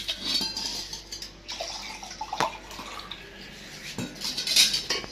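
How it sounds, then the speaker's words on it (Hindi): Water poured into a cooking pot of spiced food, with metallic clanks and clatters of the pot and utensils over splashing and trickling, close and moderately loud. "तो इसमें अब पानी डालते हैं।"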